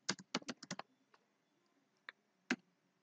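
Quick bursts of computer keyboard typing, a rapid run of close, crisp key clicks followed by a pause and two more isolated taps, quiet and alone without any talking.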